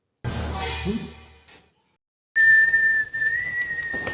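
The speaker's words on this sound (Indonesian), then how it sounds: "Bos, bersiul mulu kayak burung." A man whistles in a bird-like way, sustained warbling tones with pitch wiggles, loud and close, after a brief burst of chatter and a short pause.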